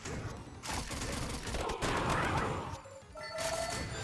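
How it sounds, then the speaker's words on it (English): Explosions in the video game Vampire Crawlers: dense, crackling bursts of rapid blasts and booms that swell and fade over a few seconds, with chiming game effects toward the end. "Explosions!"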